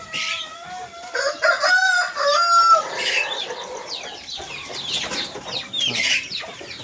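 Roosters on a gamefowl farm in Tarlac crow loudly nearby, one long crow after another overlapping, with hens clucking in the background.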